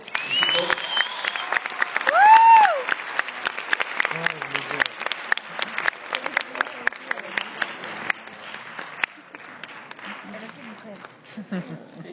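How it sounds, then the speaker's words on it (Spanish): An audience at a design conference in Puebla claps briefly, a scattered burst of applause mixed with cheering voices and talk over it, growing sparser toward the end. "Pues démosle un grande aplauso a"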